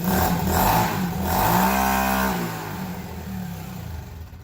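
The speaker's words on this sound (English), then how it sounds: "All right, test number 1. Here we go. Sounds like a dirt bike." A Ruckus clone scooter fitted with a new Vance & Hines muffler revs hard twice, rising and falling, then settles into a fading idle, loud and close with no voices.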